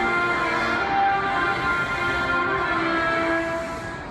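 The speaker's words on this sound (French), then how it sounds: "une station de métro à Yokohama joue la musique de Final Fantasy à chaque fois qu'un train part en gare" Final Fantasy music playing over the platform of a Yokohama metro station as a train departs: steady sustained tones over a continuous rumbling train wash, loud and unbroken, easing slightly at the end.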